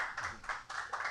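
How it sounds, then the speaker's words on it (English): Audience applause for Jones Murphy at a forum on voting rights and abortion rights, heard as a brief burst of clapping from a room of people, with the claps coming in uneven pulses. "he is worth all of your applause"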